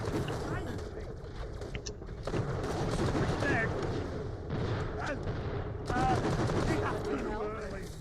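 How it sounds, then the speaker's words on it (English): A revolver fires in Borderlands: The Pre-Sequel as a burst of sharp gunshots and explosive booms, repeated over several seconds amid game effects, with a voice talking over the action. "I'm really liking this revolver"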